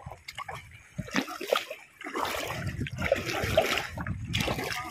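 Shallow sea water sloshes and splashes over a reef at low tide around a paddled boat, close and fairly soft, with trickling and irregular splashes throughout.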